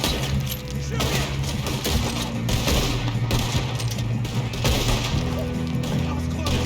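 Gunfire in the Western video game Red Dead Redemption 2, a dense and continuous battle with rapid overlapping shots and crashes over a steady low rumble of game music, loud throughout.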